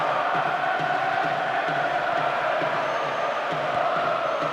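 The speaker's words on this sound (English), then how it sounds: "A section of the crowd is urging them to shoot, and not before time." A football crowd in the video game PES 2010 roars steadily in a stadium, a dense sustained cheer and chant at even loudness throughout, with faint commentary voices underneath.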